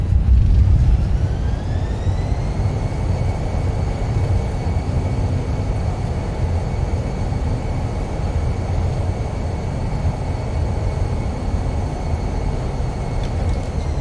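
Airliner thrust reversers roaring after touchdown in Microsoft Flight Simulator, a loud steady engine rumble with rising whine tones, sustained and close, no talk.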